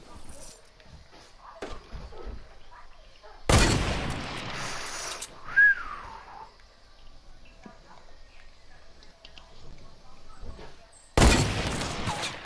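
Bursts of gunfire in the video game Fortnite Battle Royale: two loud broadband volleys a few seconds apart, the second near the end, with scattered fainter shots and game sounds between them.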